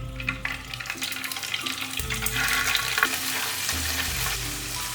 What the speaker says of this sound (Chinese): 油烧热之后，下入豆腐